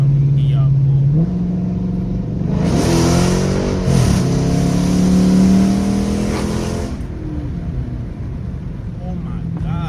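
Dodge Charger SRT 392 V8 engine cranking to life and revving hard, a loud rising roar that peaks and settles back to a rumbling idle, close up.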